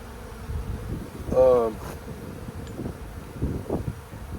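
Honey bees from a swarm buzz around a hive being fitted with a medium box and drawn comb, a steady close insect drone with a louder swell midway, and wind noise brushing the microphone.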